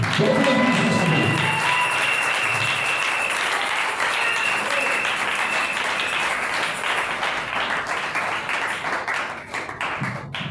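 A church congregation applauding during a sermon, loud sustained clapping from many hands filling the room for about ten seconds, with voices mixed in underneath.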